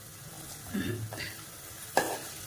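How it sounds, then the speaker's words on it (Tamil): Sliced onion sautéing in a pan for jeera coconut rice, a low steady sizzle with a couple of scraping stirs and a sharp clink of the spoon against the pan near the end. "சேர்த்துட்டு இந்த வெங்காயத்தையும் நல்லா வதக்கிக்கணும்."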